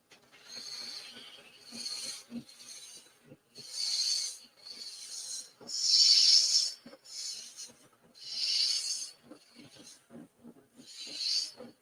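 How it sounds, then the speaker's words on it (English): A pen blank turns on a slowed wood lathe, a cutting tool scraping the spinning wood in repeated hissing, rasping bursts about every two seconds, close and moderately loud. "We're going to slow the lathe down."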